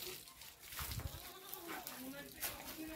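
Goats in a farm shed used for goat rearing let out a few faint bleats, quiet and somewhat distant over low background sound.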